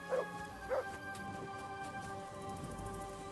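Two short dog barks from the video game Kingdom Come: Deliverance 2 ring out near the start over steady tonal background music, then the music continues alone.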